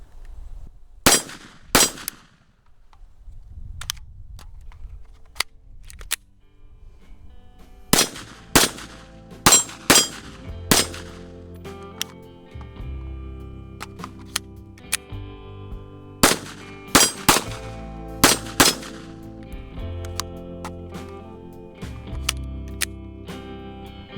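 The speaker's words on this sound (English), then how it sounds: "let's see how fast you can shoot the gun and reload it from the holster" A Kel Tec PMR-30 pistol fires in sharp, loud bursts of rapid shots drawn from a holster, with quick strings of cracks separated by pauses and clattering handling noise during a reload.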